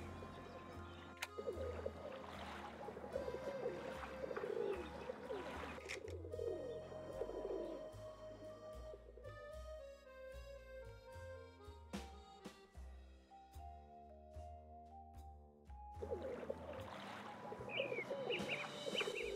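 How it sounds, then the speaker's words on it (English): In the Nancy Drew: Danger by Design video game, pigeons coo softly in a faint ambient scene with water sounds, while a musical score plays across the middle stretch. "Can I see those birds?"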